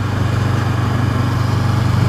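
A 2016 Honda CB500F parallel-twin motorcycle engine drones steadily while riding, a constant low throbbing hum blended with heavy wind rush, loud and close throughout.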